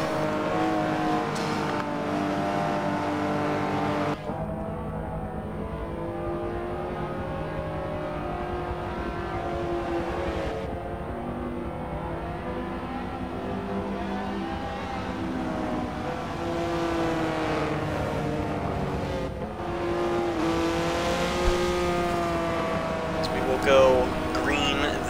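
Michelin Pilot Challenge race cars at Sebring, running single file under caution before a restart, give a continuous steady engine drone with rising and falling passes, while a commentator talks over it throughout.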